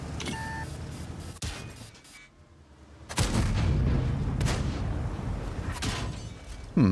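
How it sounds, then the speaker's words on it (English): Artillery fire in a tank battle video game: muffled booms and distant blasts come in separate bursts, with a couple of short electronic beeps, a quieter lull and a sharp hit near the end. "artillery is already starting to fire over here"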